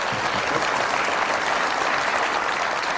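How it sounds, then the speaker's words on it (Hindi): Studio audience applause at a Pakistani late-night comedy show, a dense, steady wash of many hands clapping at once, loud and continuous throughout with no talk over it. "अच्छा, ये ताली का मतलब क्या है?"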